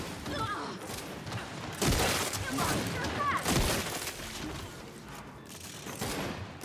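Gunfire from the Helios weapon in a Gears 5 free-for-all match, with dense bursts of shots and impacts rising and falling over a busy game soundscape, with a voice talking over it.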